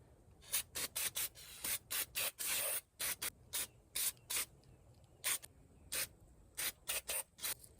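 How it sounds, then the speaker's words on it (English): Short bursts of aerosol brake cleaner sprayed onto the carburetor of a Subaru Robin EHO35 four-stroke small engine, a quick irregular series of close hissing squirts with brief pauses between them, quiet and without talk. "A little brake cleaner."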